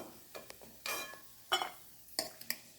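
Cashews and raisins fry in ghee with a low sizzle, broken by a few sharp stirring scrapes and clinks of a spoon against the pan, close and moderately loud.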